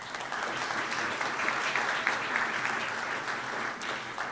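Sustained applause from an audience at a university commencement awards ceremony, steady and dense from start to finish at moderate volume, with no break in the clapping.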